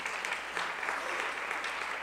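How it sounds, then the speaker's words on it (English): A room of guests at a grant recipient dinner claps for the students filming the evening, a dense, steady round of applause that fills the whole moment without any talk over it. "I think we should give them a round of applause."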